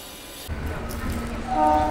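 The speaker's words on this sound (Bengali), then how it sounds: "আমার ট্রেন ছেড়ে বেরিয়ে যাচ্ছে তমলুক রেলওয়ে স্টেশন থেকে।" A local train rumbles and clatters as it pulls out of Tamluk railway station, with a brief horn-like tone rising near the end; steady mechanical noise throughout, fairly close.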